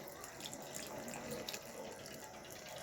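Water is poured from a container onto the base of a lemon plant in a garden, a soft, steady trickling splash that runs evenly throughout at a moderate distance with no voices.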